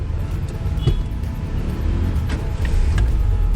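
A 1985 Daihatsu Charmant sedan engine idles close by from inside the car, a low steady rumble that rises slightly, with a few small clicks and knocks over it.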